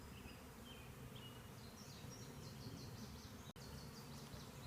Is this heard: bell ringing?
no